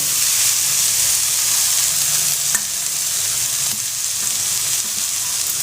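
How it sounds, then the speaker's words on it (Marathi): Onion and spring onion greens fry in a pan with a loud, steady sizzle and hiss close by, and a faint stir or scrape now and then. "आणि पात छान परतून घेऊयात"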